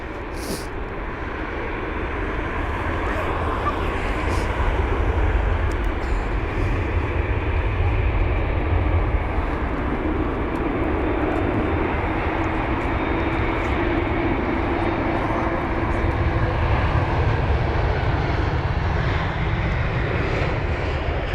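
An Airbus A319 airliner arriving at London Heathrow after a flight from Edinburgh, its engines a steady, broad roar that swells slightly and holds loud throughout with no talking.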